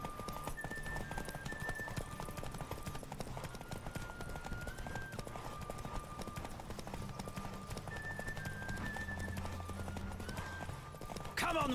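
Galloping hooves of a horse in The Witcher 3 drum in a fast, steady clip-clop over a continuous music bed, with a brief whinny-like sound near the end.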